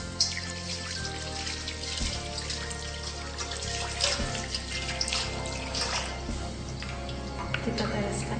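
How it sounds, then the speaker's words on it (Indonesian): Hands are rinsed under running tap water during a handwashing demonstration, a steady splashing stream over background music, with someone speaking over it. "Setelah selesai, kita bilas dengan air mengalir."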